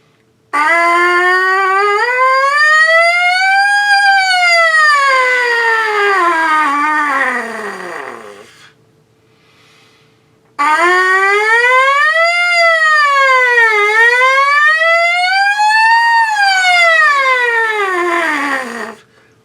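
A single voice glides smoothly up and down in pitch, imitating a siren, in two long sustained sweeps separated by a brief pause.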